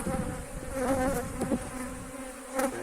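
Honey bees buzz steadily nearby during hive transfer by a beekeeper, a layered droning hum with wavering pitch as individual insects pass close, no voices.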